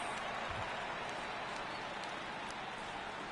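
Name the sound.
Brooklyn stadium crowd cheering in MLB The Show 18 video game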